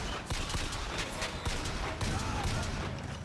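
Rapid gunshots in the BioShock Infinite video game on Hard difficulty, a busy stream of sharp cracks and bursts, loud and continuous, with a voice faintly present.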